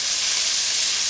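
Shrimp dropped into a hot pan, a loud, steady, close sizzling hiss that holds evenly throughout with no talking.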